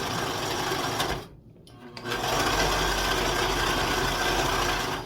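A serger sewing machine runs continuously at close range while stitching a vintage quilt Christmas stocking, its fast motor whir pausing briefly near the start and then resuming steadily, with no talking.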